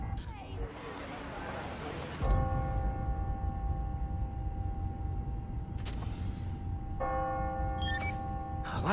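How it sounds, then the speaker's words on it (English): Time-telling bells in Spider-Man: Miles Morales ring in a city setting. Several struck tones hang and ring out over a soft background murmur, with fresh strikes arriving every few seconds. "When I hear those bells,"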